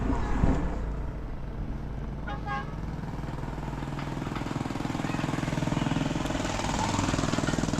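Motorcycle engine idling and running close by, a steady, rapid putter that grows slightly louder and rougher toward the end, with brief clatter and a faint tonal chirp early on.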